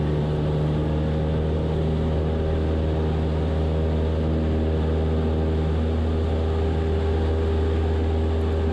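Light propeller aircraft engine at full throttle during takeoff, a loud steady droning roar that stays constant and close throughout, with no voices.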